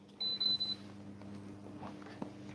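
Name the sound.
AI gimbal beeping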